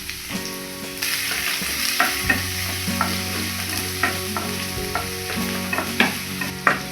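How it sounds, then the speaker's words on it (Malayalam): Chopped onion, green chilies and curry leaves sizzle steadily in a hot pan, with repeated scraping stirs of a spoon cutting through the frying throughout; no voices. "കുറച്ച് കറിവേപ്പിലയും ചേർത്ത് നമുക്ക് ഒന്ന് വഴറ്റിയെടുക്കാം"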